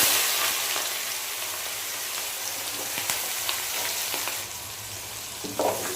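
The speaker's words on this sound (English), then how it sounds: "This will be fried till this onion is a bit browny." Onion sizzling and frying steadily in heated red oil with salt, a continuous dense crackle with a few brief stirring clatters near the end.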